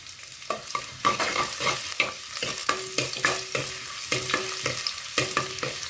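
Green chillies, ginger and garlic fry in a pan with a steady sizzle, broken by repeated sharp scrapes and clacks of stirring, close up with no speech.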